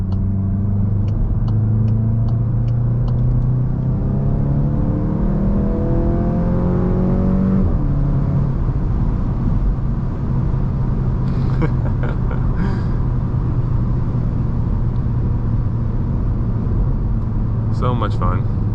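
A Volkswagen MK8 GTI engine drones and revs from inside the car, with sharp crackling exhaust pops scattered through the run and clustered near the end.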